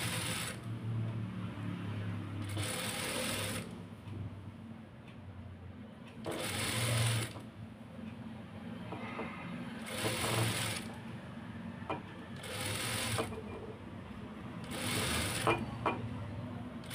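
Sewing machine stitching lace onto fabric, running in several separate bursts of a few seconds each with short pauses between, steady and close.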